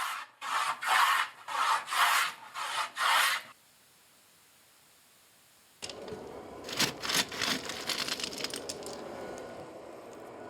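A craftsman shaping wood for a gayageum, Korean zither, with a hand tool: several close, rhythmic rasping strokes, a pause, then a denser stretch of scraping and rubbing against steady background hiss.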